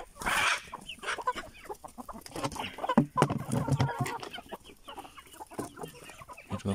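Hens and a rooster clucking inside a backyard chicken coop, loud nearby bursts of clucking and squawks repeating throughout, with a little background movement.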